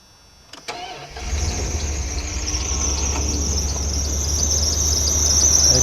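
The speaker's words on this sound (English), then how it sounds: "It started right up after cranking it a little bit" A car engine cranks with a few sharp clicks and a brief starter whir, then catches and settles into a steady, close idle under a persistent high-pitched squeal.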